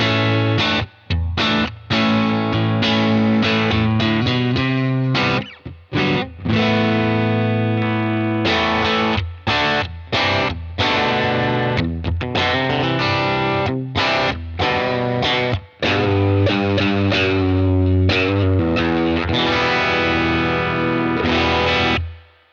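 Electric guitar played through a UAFX Dream '65 Reverb amp pedal with the gain turned up, giving loud, continuous distorted chords and sustained notes with brief pauses, played alone with no talking.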